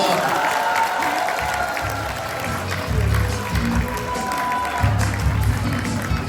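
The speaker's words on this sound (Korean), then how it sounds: "임원님들께 큰 박수 부탁드리겠습니다" Applause from attendees at a New Year gathering of a Korean travel guide association, steady broadband clapping with crowd noise and some low rumble throughout, moderately loud.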